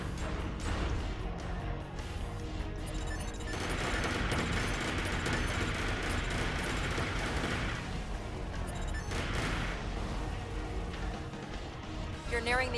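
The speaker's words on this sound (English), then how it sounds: "Slowly but surely unloading all my machine guns into them." Machine guns fire nonstop in Armored Core 4, a dense, loud rattle of rapid gunfire with crashing impacts, while a voice talks over the barrage.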